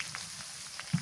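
Ginger and cumin paste sizzles in a pan over a clay stove, a faint, soft crackle with a few light pops and one louder spit near the end, heard alone.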